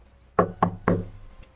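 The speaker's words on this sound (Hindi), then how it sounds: "दरवाजे पर अचानक दस्तक हुई" Three sharp knocks on a door in a horror story set on a stormy night, evenly spaced and loud, followed by a fainter fourth tap, with no voices.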